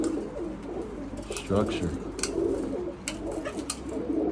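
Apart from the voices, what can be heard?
pigeons cooing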